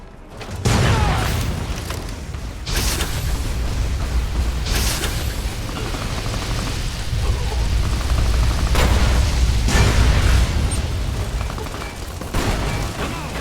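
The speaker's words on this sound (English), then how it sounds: "Why did everything just explode?" Explosions in Fallout: New Vegas during a battle, with heavy booms recurring every couple of seconds over a continuous rumbling, crackling roar of gunfire and destruction, loud and dense throughout.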